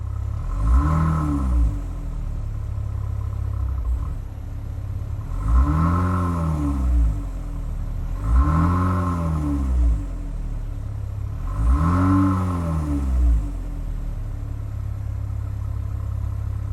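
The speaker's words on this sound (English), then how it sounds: "let's see how this exhaust is going to sound" A 2024 Dodge Hornet R/T with a 1.3 liter inline four-cylinder and dual exhaust revs four times, each rise and fall spaced a few seconds apart, over a loud steady idle heard up close.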